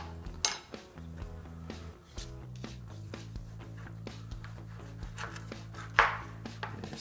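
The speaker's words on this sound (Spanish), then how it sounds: "ahorita vamos a cortar" A knife chops through food on a board during preparation of a spiced lamb shoulder dish, with steady rhythmic knocks over several seconds and one sharper, louder strike near the end.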